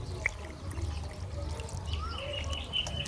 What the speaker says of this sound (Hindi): अब इनको एक दफ़ा दोबारा पानी से धो लेंगे